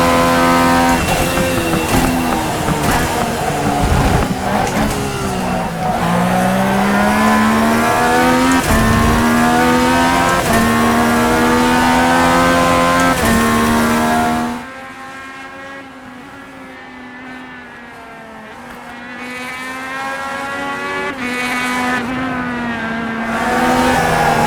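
A race car engine in the iRacing sim revs hard and loud, its pitch rising and falling through gear changes. It drops to a quieter, lower drone partway through, then builds again.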